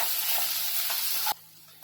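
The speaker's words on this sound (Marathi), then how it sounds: "कांदा चांगला लाल होईपर्यंत भाजायचा आहे" Onion with ginger, garlic and green chili paste frying in a pan, a loud continuous close sizzle with faint stirring that cuts off abruptly near the end into quiet.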